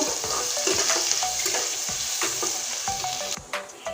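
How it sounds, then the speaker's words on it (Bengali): Crushed garlic frying in hot oil until it turns red, a steady close sizzle with repeated light clinks of stirring against the pan, and no talking. "রসুনটা প্রথমে লাল করে ভেজে নেব"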